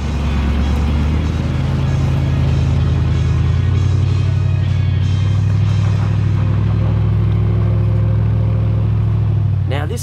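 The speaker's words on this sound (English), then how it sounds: "listening to the mighty V8 in Keith's rig" A 4WD rig's V8 engine drones at steady speed on a far north Queensland track, a deep continuous rumble holding through with slight rises in revs and a brief clatter near the end.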